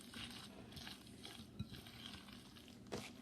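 Veggie fritter batter stirred in a bowl, soft wet scraping and swishing strokes close up, with a few light clinks of the utensil against the bowl.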